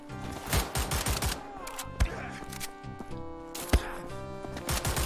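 Gunfire in the shooter Wolfenstein: The Old Blood, heard as rapid, rhythmic clusters of close shots with sharp cracks and metallic clatter, repeating in bursts over a humming music and ambience bed, with voices now and then.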